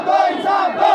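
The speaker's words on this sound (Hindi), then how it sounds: "इस दौरान प्रदर्शनकारियों ने आरोपियों को गिरफ्तार करने की मांग करते हुए नारे भी लगाए।" A crowd of protesters chants slogans at a road blockade, calling for the arrest of the accused. The burst is short, loud and close, with many voices shouting together in unison.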